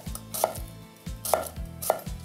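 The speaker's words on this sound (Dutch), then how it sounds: "En dan ga je met het scherpe mes verticaal insnijden." A sharp knife slicing vertically through an onion on a cutting board, a few crisp chops in an uneven rhythm, close and fairly quiet, with no talking.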